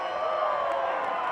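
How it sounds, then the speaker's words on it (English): A crowd at a whitewater park event on the Arkansas River, heard as a steady, fairly loud mass of cheering and voices with no breaks. "I mean, you can hear the crowd."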